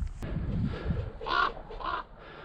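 Birds caw on Crib Goch, a mountain ridge in Wales: two short, harsh calls close together, fairly near, over a low wind rumble.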